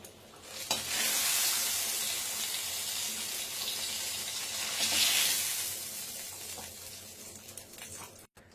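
Egg curry gravy with potatoes simmers at a rolling boil as fried boiled eggs go in: a loud, steady, close bubbling sizzle that swells twice, then cuts off abruptly near the end.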